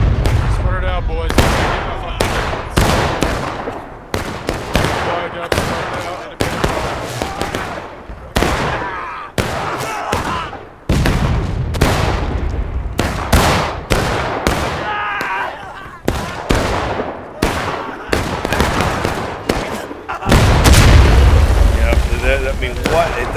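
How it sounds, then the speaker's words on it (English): Cannons firing at near point-blank range in a Manassas Campaign Civil War battle video game: a dense run of loud, sharp booms and blasts in quick irregular succession, with a heavier rumbling barrage near the end. "they're in point-blank range almost with the cannons"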